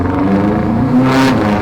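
A 2002 bugeye Subaru WRX fitted with Tomei unequal-length headers and an up-pipe rumbles up close, engine pitch climbing as the turbo spools with a rising whir and a short hiss near the end.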